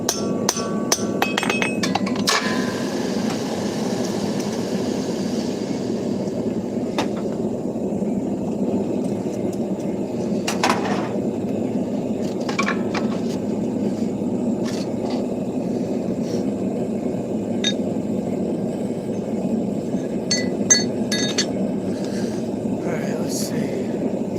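Hammer blows ring out on bent hot steel being straightened at a forge, sharp metallic strikes in irregular clusters over a constant low rumble of blower or background noise.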